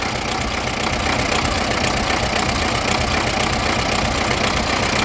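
A D-240 diesel tractor engine idles evenly after its ignition timing has been set, a loud, close, steady knocking rumble with no voices.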